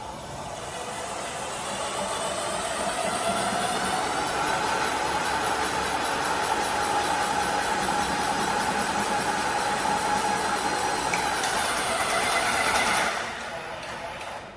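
An airless paint sprayer builds pressure with a continuous motor drone and hiss that swells and holds steady, close and loud, then cuts off near the end.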